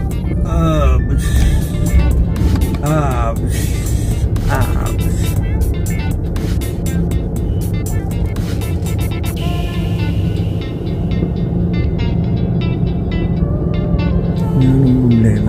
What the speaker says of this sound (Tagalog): yung mga traffic na ganyan eh.